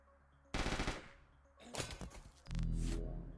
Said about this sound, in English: Another round of shooting, I should say.